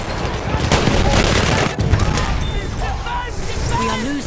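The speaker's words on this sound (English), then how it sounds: "machine gun, look right!" Rapid bursts of machine gun fire ring out in a first-person shooter battle, dense overlapping shots with explosions, while a player calls out over the gunfire.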